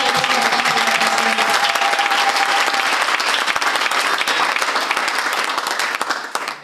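A church congregation applauds steadily, a dense, loud wash of clapping that fills the space and tapers slightly at the end, with a faint sustained tone beneath it early on.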